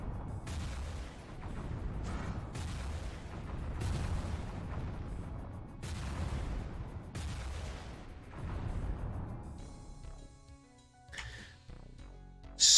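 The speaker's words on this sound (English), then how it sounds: "Good old Phoenix staff. When in doubt, use the magical equivalent of a rocket launcher." The Phoenix staff firing in the Heretic-themed Doom mod, a run of heavy booming fiery blasts every second or two, each with a rumbling tail, trailing off into quieter game sounds.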